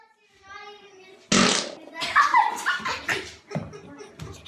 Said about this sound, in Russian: батя пукает на кухне